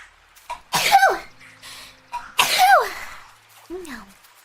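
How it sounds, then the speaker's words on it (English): Two loud, close sneezes, each with a sharp inhale and burst, come about a second and a half apart, followed by a short vocal squeak, with brief talk between them. "Oh, I gotta sneeze."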